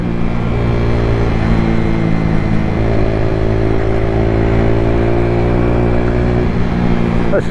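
A Lexmoto Tempest small motorcycle engine runs close by after a fuel-flow fix, revving up partway through and holding a higher buzzing tone, steady and loud with no talk over it.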